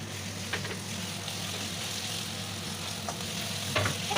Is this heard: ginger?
yes